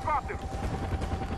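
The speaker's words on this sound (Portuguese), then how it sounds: "Helicóptero." Helicopter rotor thrum mixed with bursts of gunfire during a Far Cry 4 mission, steady and moderately loud, with people talking over it.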